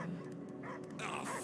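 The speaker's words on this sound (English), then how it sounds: "I hear only barking." A dog barks and yips a few times in the Guardians of the Galaxy video game, short muffled woofs under a steady game ambience and a brief voice.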